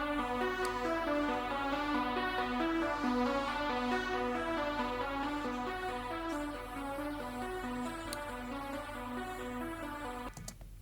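Overly wide synth lead with phase issues, playing a rhythmic pattern of repeated bright, buzzy notes over a steady low bass, with no other sounds around it.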